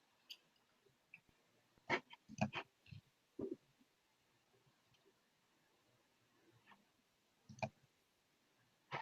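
Computer mouse clicks, a few scattered sharp ticks and small clusters of clicks over near silence, quiet and close, with some faint background noise.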